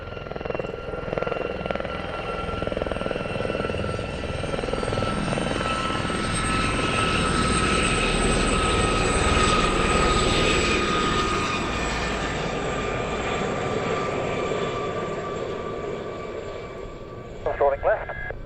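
Gazelle helicopter at a Fly Navy airshow at Shuttleworth, a steady loud rotor and turbine roar with a whining tone, swelling slightly in the middle as it passes, with a faint voice over a commentary speaker.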